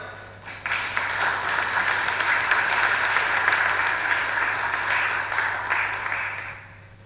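Audience at a TVET conference opening ceremony in Curaçao applauding, a steady dense wash of clapping that swells quickly and holds for several seconds before tapering.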